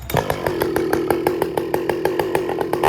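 A ported Husqvarna 562XP chainsaw runs steadily at close range, its loud engine drone broken by regular rhythmic pulses throughout, with no talking.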